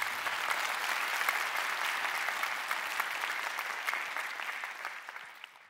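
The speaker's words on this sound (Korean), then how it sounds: "박수 한번 쳐주세요." A lecture-hall audience at a Korean talk show event gives a round of applause, a bright, full wash of many hands clapping steadily before gradually tapering off.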